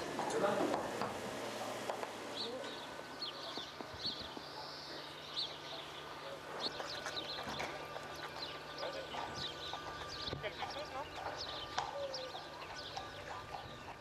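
Cadre Noir horse being ridden, with faint clip-clop hoof falls in a steady rhythm amid birdsong and low background noise, somewhat distant.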